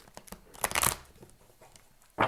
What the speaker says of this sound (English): One more shuffle and we will be ready